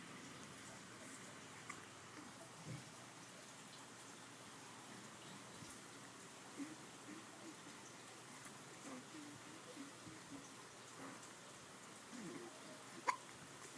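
A baby hiccups softly several times at irregular intervals, faint and close against a low hiss of background noise.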